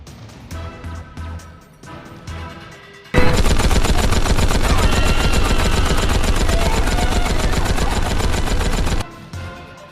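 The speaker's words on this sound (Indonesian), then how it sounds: "mereka dengan cepat disapu bersih oleh senapan Gatling" Gatling gun fire in a battle scene from The Last Samurai, a loud, dense, continuous burst of rapid shots lasting about six seconds, framed by quieter thuds and scattered shots before and after.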